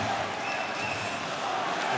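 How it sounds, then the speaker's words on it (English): Dense, steady roar from a largely Finnish crowd filling an arena during an ice hockey world championship game between Slovakia and Finland, a continuous wash of voices with no clear peaks. "A largely Finnish crowd here tonight."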